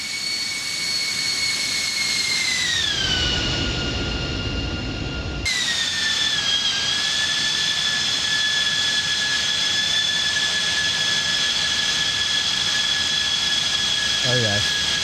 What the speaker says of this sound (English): Go for a quick flyby.